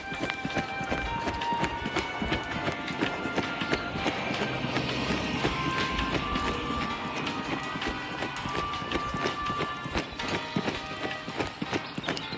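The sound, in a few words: London train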